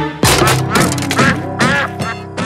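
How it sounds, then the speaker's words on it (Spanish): Pato, the cartoon duck from Pocoyo, quacks about six times in quick succession, loud, close and alone. "¿Alguno de vosotros sabe quién ha hecho ese sonido? ¡Pato! ¡Es Pato!"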